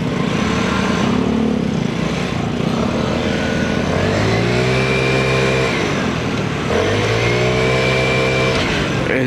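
A 2024 Vespa Primavera scooter rides at night, its engine droning steadily close by and rising in pitch twice as it accelerates, alone without talk.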